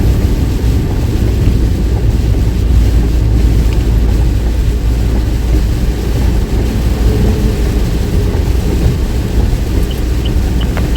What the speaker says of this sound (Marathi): पाऊस बघा केवढा आहे.